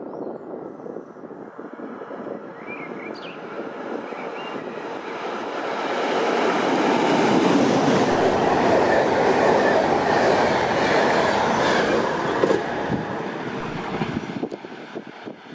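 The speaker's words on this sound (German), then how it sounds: "Achtung am Gleis, Rang, ein Zug fährt durch." A train passes through Grafing railway station, its roar building from a distant rumble to a loud, sustained rush of rolling wheels, then easing as it clears the platform.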